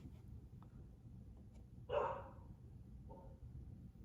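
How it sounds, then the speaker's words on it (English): A pet dog barks once at a distance, a single muffled bark followed by a fainter short yip, standing out above a low steady indoor hum; no one talks. "my dog is barking out, but she's doing her security shit"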